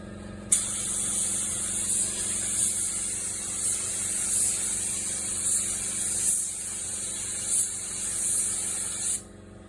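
A steady, loud hiss of spray painting runs almost without a break for about nine seconds at close range, with a few brief pulses as the spray is applied to a trucker-themed mailbox sign's exhaust stacks.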